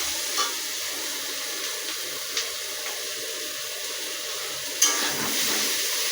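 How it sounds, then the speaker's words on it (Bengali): Onion and potato fry in a kadai with a steady, close hiss of sizzling oil, broken by a few sharp clinks of a utensil against the pan near the end. "আমি কড়াইয়ে পেঁয়াজ আর আলুটা বেশ করে ভেজে নেব"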